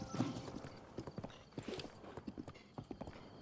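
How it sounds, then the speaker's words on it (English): Epona, Link's horse in The Legend of Zelda: Breath of the Wild, galloping as a game sound effect: quick rhythmic clip-clop hoofbeats with a brief whinny near the start, fairly quiet and alone. "Hey, Epona. Woo. Okay. Onwards, horsey."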